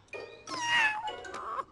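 A cartoon cat from the animated series Kid vs Kat lets out a drawn-out, wavering meow that swells and then trails into a second shorter cry, close and loud.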